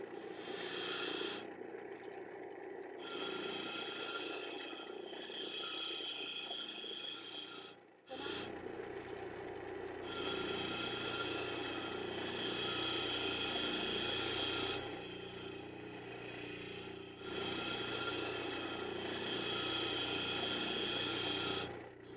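Lapidary machine with diamond-grit wheels grinding turquoise, a steady buzzing whir with scraping grind that runs continuously, dropping briefly around the midpoint before resuming at close range.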